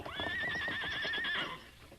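A horse neighs loudly with a long, wavering whinny over rapid galloping hoofbeats, in a radio drama scene where a masked rider is knocked from his horse by a rope. The whinny fades toward the end.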